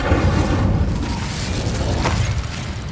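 An Incendio fire spell cast in Hogwarts Legacy bursts as a dense, roaring whoosh of flame, loud and sustained across the whole moment with a brief flare near the end, no voice over it.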